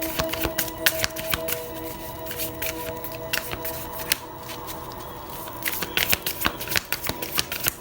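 Tarot cards shuffled by hand close up, a steady run of crisp riffling and slapping card sounds in quick bursts, with no talking.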